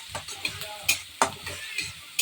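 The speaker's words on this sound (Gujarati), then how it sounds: "હવે થોડીક વાર હલાવીએ આપણે એને" Onions being stirred in a pan with a spoon, a series of distinct scraping knocks roughly every third of a second over a low background, close and fairly quiet.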